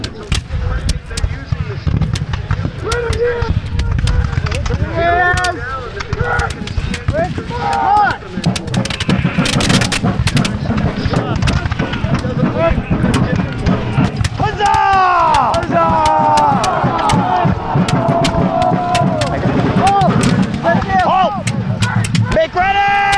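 Musket volleys crack out at a Bunker Hill battle reenactment, with sharp reports amid a dense background of shouted commands and voices heard up close.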